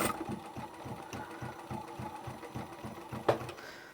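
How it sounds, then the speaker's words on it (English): A sewing machine stitches bag fabric with a fast, even mechanical chatter of needle strokes, close by and moderate in level, with a brief clunk near the end. "then start sewing"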